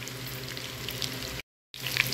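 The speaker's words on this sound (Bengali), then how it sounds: "কাবাবগুলো ভেজে হালকা ভাজবো, বেশি ভাজবো না, যাতে কাবাবটা একটু শক্ত হয়ে যায়।" Kofta kebabs fry lightly in a pan of oil with a steady, close sizzle. The sizzle breaks off in a brief silent gap, then resumes with a few sharper crackles.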